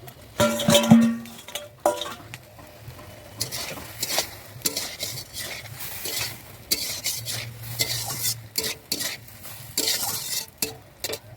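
Fish roe curry stirred and sautéed in a pan after the lid comes off, with repeated scraping strokes and utensil clinks against the metal over a light sizzle, with no talk.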